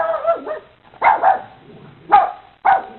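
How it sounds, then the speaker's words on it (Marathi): A dog barks from inside a nearby house, several sharp barks spaced unevenly across a few seconds with short quiet gaps between them, no talk. "तेवढ्यात रोजीच्या घरातून कुत्र्याच्या भुंकण्याचा आवाज आला."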